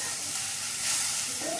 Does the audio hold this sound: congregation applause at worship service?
no